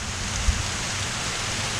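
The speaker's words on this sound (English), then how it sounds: "There comes the rain." Steady rain falls through the night in a thunderstorm, a constant broadband hiss with a low rumble beneath and one brief louder thump, no talking.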